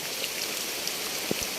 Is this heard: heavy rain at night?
yes